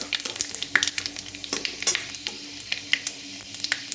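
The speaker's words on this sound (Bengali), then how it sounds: "তেলটা গরম হয়ে গেছে, তো এখানে আমি পাঁচফোড়ন দিলাম।" Panch phoron spices crackling in hot oil at the start of a spinach and vegetable curry, a close, lively sizzle with quick popping bursts and occasional stirring scrapes.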